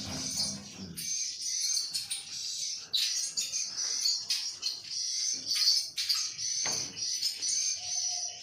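Swiftlets chirping inside a single-floor 4x4 metre swiftlet nesting room, a dense, close chorus of high rapid clicking twitters and chirps that overlap continuously, with occasional wing flutters.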